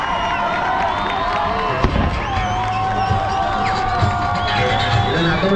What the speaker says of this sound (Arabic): وبغيت نسمع تشجيع ديال النساء شوية